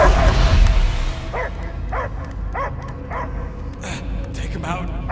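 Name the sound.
dog barking in a video game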